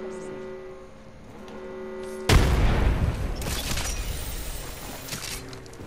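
A grenade detonates in a video game with a sudden loud boom and crackling debris that slowly fades, after a steady electrical hum and brief voices.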